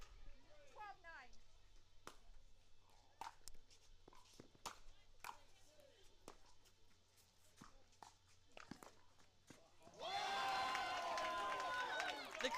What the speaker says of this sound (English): The crowd loved that one. Got a few standing ovations for Sam Query